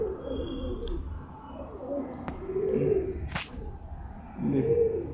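Madras pigeons coo in low, throaty bursts near the start and again toward the end, with a brief sharp click and a faint rustle in between against steady low background hum.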